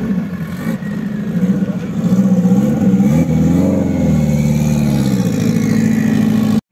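A Ferrari engine revs and drones loudly and close, the pitch rising and falling through several surges before cutting off abruptly at the end.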